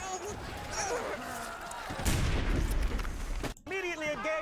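Rifle fire in a video game, a burst of booming shots in the middle over steady background noise, with a voice speaking through much of it.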